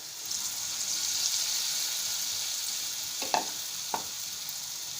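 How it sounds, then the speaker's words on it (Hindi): Batter-dipped broccoli frying in oil on a medium flame, a steady close hiss and crackle throughout, with a few short clinks and splashes near the end. "ऐसे सब फ्राई कर लीजिए मीडियम फ्लेम पे, ताकि ब्रोकली गल जाए।"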